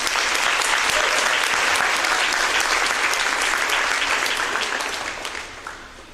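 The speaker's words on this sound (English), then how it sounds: "Let's give another round of applause." A volleyball crowd in a gym claps for senior players at a Union City Bears versus Iroquois Braves high school match, loud dense applause that holds steady then tapers off toward the end.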